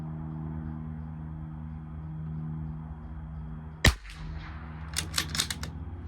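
A Bergara B14r rifle fires at a target: one sharp, loud report cracks out after a low steady hum, followed a second later by a quick cluster of smaller sharp cracks and knocks.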